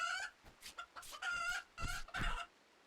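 A chicken in RimWorld clucks in a run of short, clear bursts that build to a louder squawk near the end, heard alone with quiet gaps between calls.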